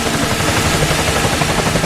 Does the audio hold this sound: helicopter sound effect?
yes